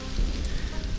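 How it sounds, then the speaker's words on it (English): Steady rain in the survival game Stranded: Alien Dawn, a dense even hiss of falling water with a low rumble beneath, continuous and fairly soft through the short stretch. "Oh, it's raining out."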